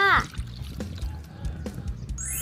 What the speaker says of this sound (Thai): เทน้ำปูหน้าใส่เลยจ้า